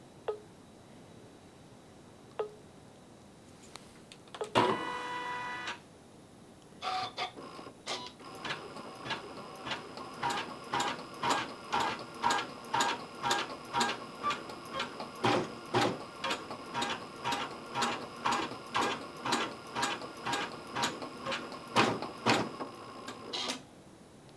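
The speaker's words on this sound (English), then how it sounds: "I'm going to stitch that narrow one again" A Janome CM17 sewing machine stitches out a design, a short burst first, then a long run of fast, even mechanical thumps with ticking, heard close with no one talking.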